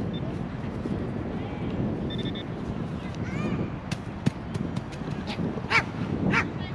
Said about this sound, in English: Uh-oh. Doggy's upset.